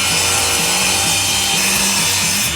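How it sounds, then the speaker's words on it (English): Hand file rasping metal during an MT-07 adventure motorcycle build, loud continuous back-and-forth scraping strokes close by, filling the short stretch with no speech. "Some people will tell you you should only use a file in one direction"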